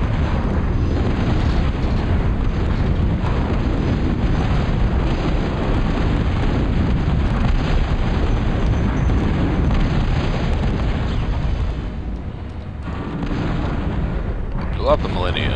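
A unit blows up in the Total Annihilation Core Contingency campaign amid continuous heavy battle noise, loud rolling blasts and booms layered without break, with voices talking over the din.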